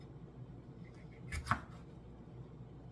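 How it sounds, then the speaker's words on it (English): Knife chopping jalapenos on a cutting board, a short burst of a few close cuts around the middle with a quiet room before and after. "So I'm just going to cut this up."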